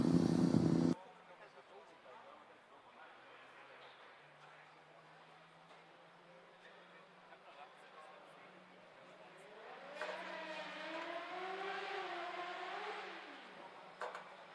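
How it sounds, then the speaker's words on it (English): Formula Student race car at an acceleration event, starting as a distant hum, then rising in pitch through several quick gear shifts as it passes, with commentators talking over it. "I just love the sound of the shifting"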